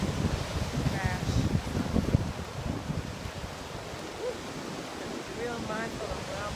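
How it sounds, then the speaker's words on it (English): Ocean surf crashing on the rocky shore of a Hawaiian coastline, a continuous loud wash of waves with gusty wind buffeting the microphone throughout. "The tide is changing, and the waves will come in and"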